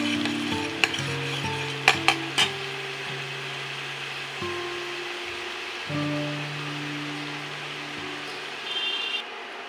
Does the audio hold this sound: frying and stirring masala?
yes